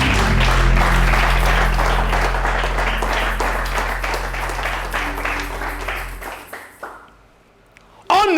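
A church congregation applauds during a sermon, dense loud clapping from many hands with cheering voices mixed in, tapering off toward the end before a short burst of sound.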